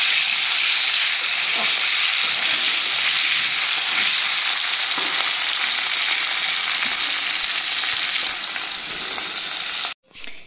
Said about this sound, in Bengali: আলুগুলোকে ভালো করে ভেজে নিয়ে এর মধ্যে সব টমেটো দিয়ে ভালো করে নেড়ে মশলাপাতি দিয়ে